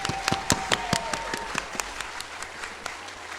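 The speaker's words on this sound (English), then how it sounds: "Can we get another round of applause for grade 5 for hosting this awesome assembly?" A handful of separate, sharp claps at a grade 5 school assembly, spaced and uneven, with a faint tone ringing underneath as the clapping thins out.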